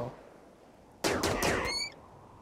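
A sharp burst of gunfire erupts in RimWorld, a quick cluster of several shots lasting under a second, moderately loud against a quiet background with no talk.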